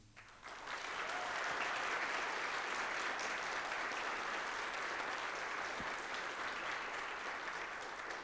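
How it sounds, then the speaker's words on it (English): Sustained audience applause for students at a ceremony, starting quickly and holding steady as a dense, even wash of clapping that fills the room without talk. "one more round of applause for all of these amazing students"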